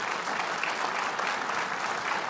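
Church congregation clapping during a sermon on financial education, a continuous, fairly distant patter of many hands at steady, moderate level.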